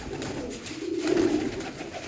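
Sadhna breed pigeon cooing in a dim, cramped loft, a low steady murmuring coo that swells in the middle, alone without voices.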